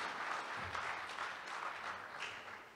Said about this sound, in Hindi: आइए उनका जोरदार ताली से स्वागत करें